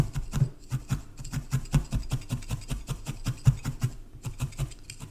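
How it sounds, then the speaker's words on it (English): Rapid, steady stabbing of a felting needle into wool from the underside of a needle-felted piece on a tobacco tin, a quick rhythmic patter of soft scratchy pokes, close and alone. "I'm just going to turn that piece upside down and felt under the underside as well"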